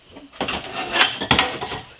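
Dishes, pots and pans clatter and clink in a kitchen sink as they are washed, including a greasy pan, with irregular close knocks and scrapes of cutlery and cookware.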